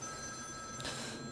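A mobile phone rings inside a parked Land Rover 90 2.5 diesel seven-seater, a brief electronic tone over steady low background hum.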